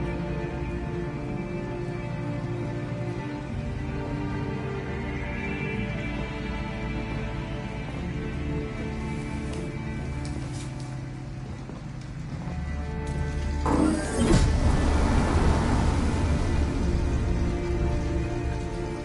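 Pouring rain in the video game Detroit: Become Human, a dense steady wash of rain with a low ambient hum, swelling louder and rougher in the final seconds, no speech.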